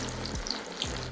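Kaari kebabs frying in medium-hot oil give a loud, dense, continuous sizzle close up, with faint stirring clicks and no voices.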